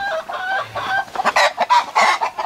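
Chickens clucking inside a coop on a farm in the Philippines, close and loud, with a steady stream of overlapping clucks and squawks quickening into a rapid pulsing run.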